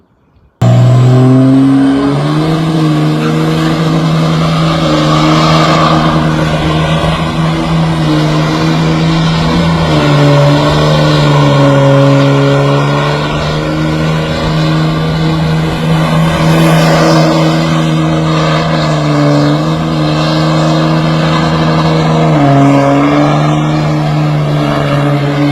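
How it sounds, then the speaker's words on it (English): A truck fitted with long-travel suspension does a burnout, its engine roaring loud and steady for over twenty seconds with slight shifts in pitch, close and without talk. "Insert burnout again."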